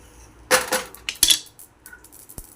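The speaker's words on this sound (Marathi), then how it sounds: "हे पण असे चटचट आवाज येतोय असे खसखस पण तडतडत" Poppy seeds dry-roasting on a hot griddle give off a few sparse, light crackles and pops, clustered in a short burst and then trailing off into isolated ticks, close and fairly quiet.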